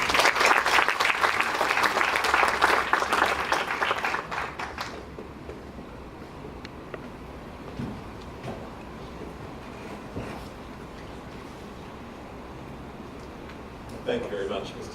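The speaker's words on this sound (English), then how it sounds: "So please, let's welcome him with a big round of applause." A conference audience at a sports law event claps in a dense, loud round of applause for several seconds, then it fades out, leaving faint room hum with a few stray sounds.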